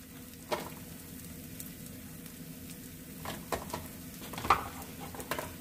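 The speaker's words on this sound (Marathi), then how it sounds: "मिक्स करून घेऊया।" Spices such as kitchen king masala and coriander powder are stirred into matar paneer gravy in a pan, making a quiet continuous sizzle broken by several scraping spoon strokes, without any talking.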